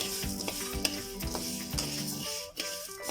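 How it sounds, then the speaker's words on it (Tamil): Black urad dal being dry-roasted and stirred in a pan, with a steady sizzling crackle broken by repeated scraping strokes of the stirring spoon, close and continuous throughout. "இப்போ நம்ம கருப்பு உளுந்தை வறுத்துக்கலாம்."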